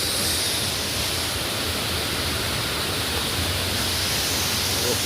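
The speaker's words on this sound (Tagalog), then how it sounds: "Punta na kayo dito. Sitobo Falls." Sitobo Falls in Tampilisan pours as a dense, constant roar of falling water, loud and close, with no break across the whole stretch.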